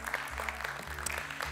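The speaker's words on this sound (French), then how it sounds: "qu'on peut applaudir" Brief burst of audience applause, many hands clapping steadily at moderate volume over a low background hum.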